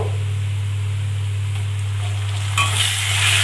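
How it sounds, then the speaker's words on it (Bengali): Katla fish curry with ground onion frying in a pan in a village-style kitchen, a steady hiss of sizzling that swells louder near the end as stirring starts, alone under a constant low hum. "ভালো করে নেড়ে নিচ্ছি বেটে রাখা পেঁয়াজ দিয়ে দেব"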